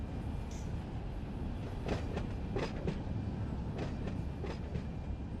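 A train in the Run 8 Train Simulator game rolls along its main-line rails, heard as a steady rumble with a few clear wheel clacks and no one speaking.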